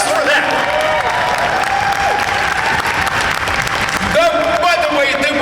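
A convention audience gives a panel guest a big round of applause at a horror fan event, dense, loud clapping and some cheering throughout, with voices calling over it near the end.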